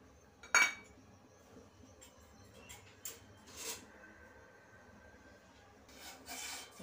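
A spoon stirs sugar into water in a pot while gulab jamun syrup is being made, giving a few scattered scrapes and light metallic clinks against a quiet background.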